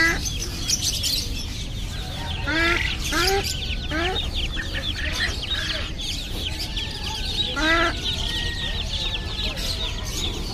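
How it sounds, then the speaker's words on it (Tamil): Native country chickens and roosters cluck and call repeatedly at a busy Friday pet market in Kuwait, with many overlapping bird sounds over a loud, constant crowd and market noise. "நாட்டுக்கோழி, குவைத்தில் நாட்டுக்கோழி."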